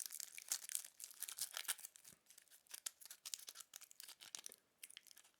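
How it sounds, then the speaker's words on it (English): Plastic film packaging on a SanDisk Extreme PRO microSDXC memory card being torn open and peeled off, a close, continuous crackly rustle with sharp crinkles and tearing bursts, no voices. "tearing open the film and just peeling"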